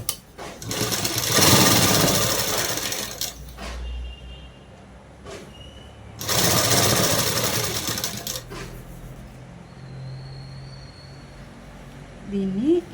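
A sewing machine runs in two clear bursts, stitching cloth for a peplum top dress, loud and close with a steady mechanical whir, then goes quiet with faint handling noise.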